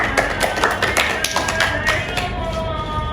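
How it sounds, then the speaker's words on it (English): Applause at a school debate event for the affirmative team, uneven clapping from a modest crowd with sharp individual claps standing out, fading near the end. "Please give a warm round of applause for the affirmative team."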